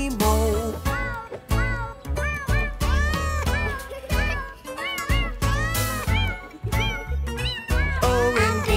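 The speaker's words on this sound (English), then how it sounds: "There was a farmer who had a cat, and Bingo was her name" Cat meows woven into a sung children's nursery song about a farmer's cat, with repeated rising meow calls over the music and singing voices.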